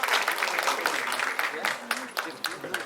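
A crowd of journalists and guests claps at a Hindi film trailer launch event, brisk uneven applause with a few sharp individual claps standing out, and faint voices mixed in.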